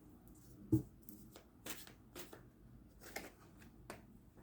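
Oracle cards riffled and drawn by hand at close range, giving quiet, soft papery flicks and slaps in an irregular rhythm.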